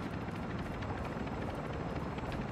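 Helicopter rotor noise from a video game, a steady dense thrum with no gaps, loud and close throughout.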